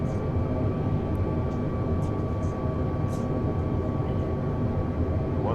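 A big airplane in a flight video game roars steadily throughout, a dense continuous engine drone with a faint steady whine on top and no pauses.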